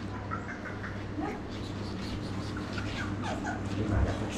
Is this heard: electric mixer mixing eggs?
no